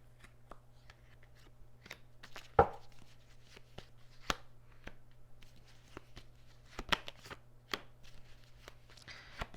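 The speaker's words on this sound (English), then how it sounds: "So I'm going to lay these cards out and we'll discuss them." Tarot cards laid out one by one on a table, giving a series of soft, scattered slaps and brushing clicks with one sharper snap, fairly close and quiet over a steady low hum, no talking.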